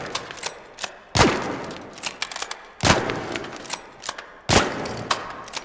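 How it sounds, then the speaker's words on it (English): Three heavy gunshots ring out in Arc Raiders, each a sharp loud blast with a short decaying tail, spaced about one and a half seconds apart, fired against a heavy shield, with faint clicks and small game noises between them. "let me fire on the heavy shield"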